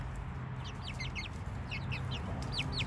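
Bantam chickens and roosters cluck close by in a series of short, quick, chirpy calls, coming in bursts over a low background rumble, with no talking.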